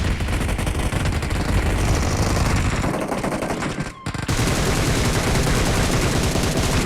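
Dense automatic gunfire from the battle royale game BGMI rattles almost without a break, loud and close, with one brief dip before the shooting resumes.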